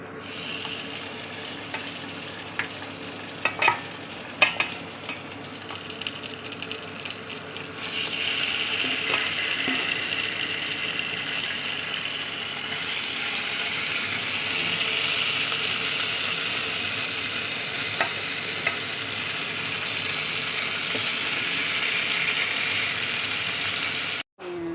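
Baby back ribs grill steadily on a hot surface, a constant hiss and sizzle that thickens partway through, with scattered clicks and clatter early on and no talking.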